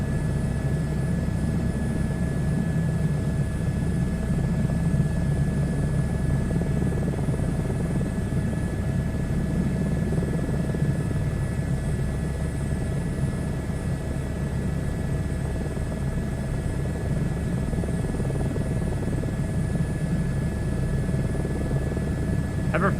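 Helicopter in flight from inside the cockpit, a steady dense rotor and engine drone with a constant low throb and a thin high whine, unbroken and even throughout, no talk.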